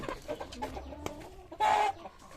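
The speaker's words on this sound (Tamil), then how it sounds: "மற்றது எல்லாமே சண்டைக்கோழி குஞ்சுகள் தான்." Fighting-breed chicks in a farm coop cheep and cluck in quick, irregular calls, with one louder, sustained call in the middle, heard close and without talking.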